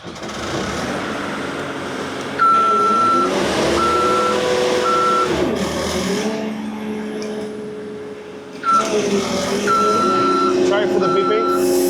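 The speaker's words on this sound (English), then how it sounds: "Again, sorry for the loud beeping." A truck's reversing alarm at a concrete plant in Mississauga beeps in loud, regular pulses over a running diesel engine, with revving bursts and brief pauses between runs of beeps.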